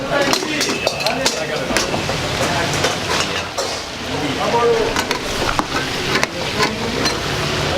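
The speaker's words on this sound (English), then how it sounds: "just the fat is just sizzling out into oil" Lamb karahi sizzles and crackles in hot fat at a street food spot in Peshawar, Pakistan, with clattering and bustling kitchen noise around it and voices talking over the top.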